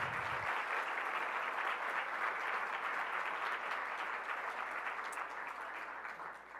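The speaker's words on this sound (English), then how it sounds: "So how about a round of applause?" Sustained audience applause at a university distinguished lecture, dense and steady from a large room, lasting several seconds with no talk over it and slowly easing toward the end.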